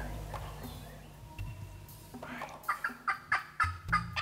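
A wild turkey gobbles during a spring hunt, a series of rapid, rattling calls that come in short repeated bursts, moderately distant and growing more frequent toward the end.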